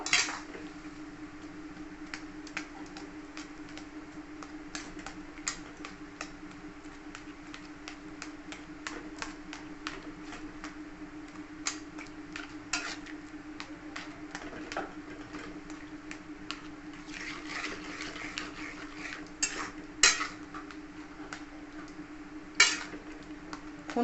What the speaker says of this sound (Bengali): ছানা দিয়ে দিলাম ভালো করে মিশিয়ে নেবো